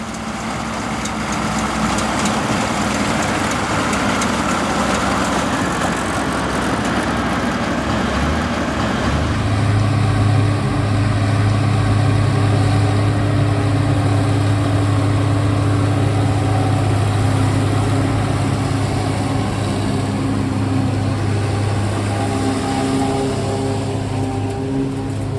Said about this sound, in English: This 1250 is performing well on a 2-row Mengele SH30N trailed forager.